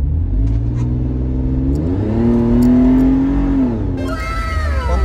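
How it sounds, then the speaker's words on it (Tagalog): A Toyota FJ Cruiser engine with a throttle valve controller revs up close under light throttle, climbing steadily in pitch, holding briefly, then dropping back as it settles again. "pakinggan nyo na lang yung tunog ng sasakyan"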